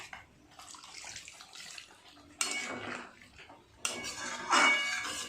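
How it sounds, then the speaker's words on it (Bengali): Hot water from a spice-coated bowl poured into a pot of chicken curry with papaya and potato, a clattering pour with clinks of metal utensils against the pot, loudest in two bursts partway through. "এই গরম জলটাই দিয়ে দেবো।"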